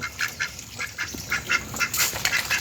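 A flock of ducks on a farm quacking repeatedly in quick overlapping calls, close and fairly loud, with no talking.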